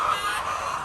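Chickens clucking in a poultry shed, a steady bird chatter filling the short clip at moderate loudness with no talk over it.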